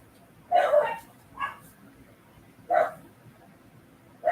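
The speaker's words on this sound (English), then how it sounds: "I've got 2 dogs that are going to bark at us from upstairs." Two dogs bark from an upstairs room, distant and muffled: a few separate bursts of barking spaced a second or two apart over a low, quiet room background.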